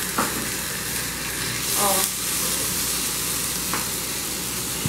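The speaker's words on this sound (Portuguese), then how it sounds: "Por ser carne de porco. Deixa, sabe, meio que cozinhar com fritar junto." Pork frying in a pan, a steady close sizzle and crackle throughout with a brief louder burst of spitting; a voice makes a short exclamation.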